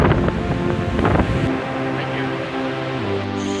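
Wind gusts across a kite-surfing beach in Mui Ne, Vietnam, buffeting the microphone with a broad, rushing roar. Partway through, a steadier tonal hum joins the blustery noise.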